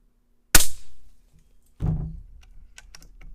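A Taipan Veteran Standard .25 air rifle fires a single sharp, loud crack, followed about a second later by a duller thump and a few faint clicks.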